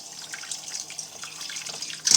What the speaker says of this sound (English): what I'm going to do first is I'm going to rinse them out